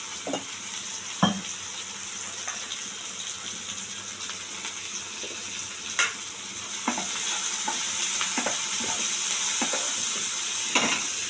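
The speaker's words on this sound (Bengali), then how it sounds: "পেঁয়াজটা ভাজা ভাজা হয়ে গেছে" Onions frying in a pan with salt and turmeric for a boal fish curry, a constant close sizzle with scattered clicks of stirring and utensil taps.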